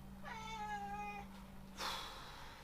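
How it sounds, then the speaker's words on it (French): A house cat meows close by indoors, one long drawn-out call followed after a pause by a shorter, higher chirp-like meow, with no voices. "tu viens pas miauler pendant que je tourne ma vidéo"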